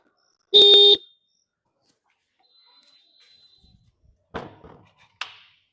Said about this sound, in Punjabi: ਬਾਹਰ ਹਾਰਨ ਵੱਜਣ ਡਏ ਆ